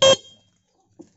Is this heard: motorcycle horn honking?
yes